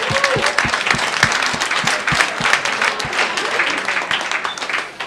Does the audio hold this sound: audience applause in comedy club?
yes